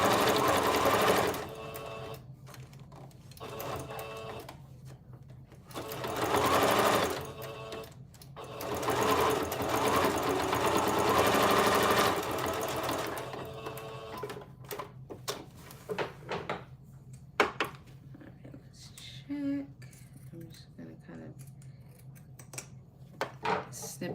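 Sewing machine stitching around several layers of fabric while making baby clothes into keepsakes, a close, steady whirring hum running in bursts with short pauses, followed by quieter handling and clicks.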